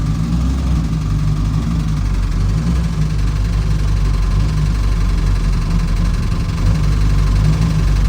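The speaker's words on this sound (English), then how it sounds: "So we'll get the engine warm up a little here." A 1959 Fiat-Abarth 750 Derivazione engine idles steadily nearby while warming up, a low rumbling hum with faint vibration and slight unevenness, rising a touch toward the end.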